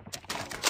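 A rapid burst of crisp mechanical clicks and clacks comes from a weapon magazine change in Call of Duty Mobile Hardpoint play, close and brief.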